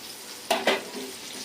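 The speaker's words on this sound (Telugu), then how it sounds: "ఇప్పుడు తాలింపు బాగా వేగాలి." Tempering of crushed shallots frying in oil for an Andhra-style raw cucumber chutney, heard as a soft sizzle with two brief stirring scrapes close by, no talking.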